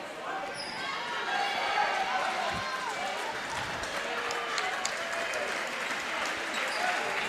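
A home crowd at a Frankston vs Nunawading NBL1 men's basketball final roars and applauds, with a dense steady wash of cheering and the squeak and thud of play on the court under an excited commentator's voice.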